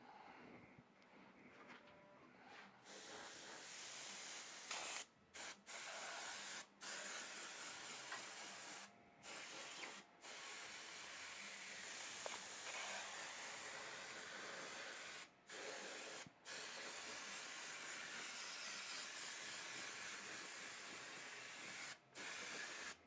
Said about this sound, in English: multi-purpose airbrush. Just best for spraying big or small.